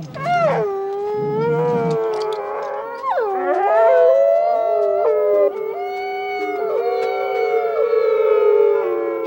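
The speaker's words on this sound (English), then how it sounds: "Howling is a signal to assemble the pack." Wolves of a pack howling, several long, sliding, overlapping voices rising and falling together, loud and sustained with no talk.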